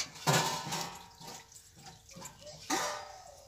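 Water poured slowly into a pan while steaming chitoi pitha, a Bengali rice-flour cake, with bursts of splashing and sizzling near the start and again near the end, and quieter clatter between.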